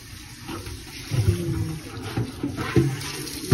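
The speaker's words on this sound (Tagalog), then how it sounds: "Hugas tayo ng oven tray. Oven tray ang tawag. Ano ba yan? Banlawan natin." An oven tray is rinsed under tap water at a kitchen sink, with a steady wash of running water broken by louder splashes and knocks as the tray is moved through the stream.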